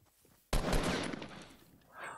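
Gunfire in Fortnite: a sudden loud burst of rapid shots starting abruptly and rolling on as a dense, sustained volley that slowly fades, with a brief faint sound at the end.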